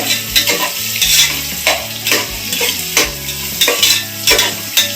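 Three green chillies frying in oil for mushroom biryani, a loud continuous sizzle broken by rhythmic scraping strokes of a spoon stirring in the pan, repeating about once a second.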